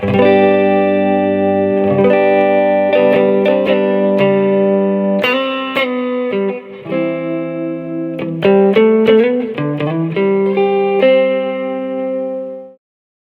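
An electric guitar plays a slow arpeggio from a live song, notes ringing into each other with effects and sustain, clear and alone, ending in a fade.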